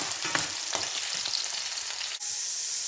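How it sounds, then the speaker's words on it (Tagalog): Carrots and potatoes fry in hot oil, giving a steady close crackling sizzle with a few sharper spits and a short dip near the end, without any voices. "Nakakatulong po itong pagpiprito ng carrots at patatas bago ilagay sa ating adobo"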